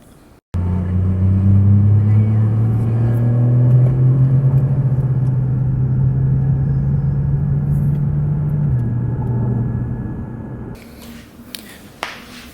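Car on a drive, a loud steady engine drone with tonal hum that shifts once midway, then fades out, followed by a few clicks and handling noises near the end.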